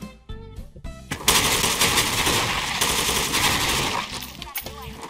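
Rapid automatic gunfire from a FAMAS Water FX rifle in the shooter game Special Force 2, a few short bursts followed by a long sustained burst, loud and close.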